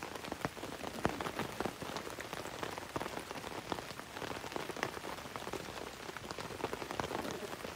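Heavy rain drums steadily on a tent and tarp at a campsite, a dense, even patter of close drops with no pauses and no talking.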